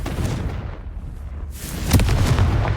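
A Confringo fire spell bursts in Hogwarts Legacy, a loud booming explosion that swells after a low rumble and rolls on with crackling debris, heard alone.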